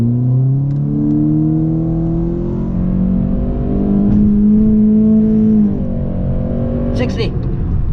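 A 2019 Honda Civic Sport with a K20C2 engine and CVT pulls hard from 0 to 60, engine drone rising in long smooth sweeps with a brief dip near six seconds, loud and close inside the cabin.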